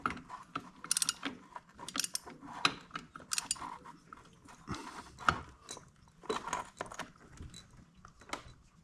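A breaker bar ratchets on a clutch bolt of a GL 500 motorcycle, making close, irregular bursts of sharp metallic clicking with pauses between strokes and no talking.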